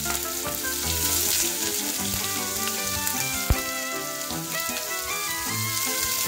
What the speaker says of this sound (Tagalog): Ngayon ilagay natin itong ating bawang dito sa kawali na may mantika